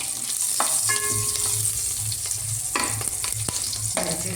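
Green chilies fry in hot ghee with whole spices, a close, steady sizzle punctuated by bursts of spattering and light scraping from a stirring spoon.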